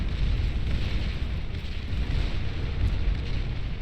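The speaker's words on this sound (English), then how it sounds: "Loads of friendly fire from those artillery pieces, actually." Artillery pieces in the strategy game Beyond All Reason pound away in an 8v8 battle, making a continuous heavy rumble of overlapping explosions that stays loud and dense throughout, with no voices.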